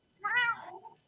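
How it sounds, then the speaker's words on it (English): A fifteen-year-old cat gives a single short, rising-then-falling meow, close and fairly soft, in an otherwise quiet room. "Here's another cat."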